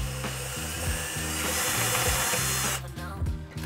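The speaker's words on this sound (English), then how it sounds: "we're gonna use what's called a step drill bit" A step drill bit enlarging a hole in a DIY kalkwasser stirrer reactor build, a steady loud grinding whir with a ratcheting chatter that eases off briefly near the end.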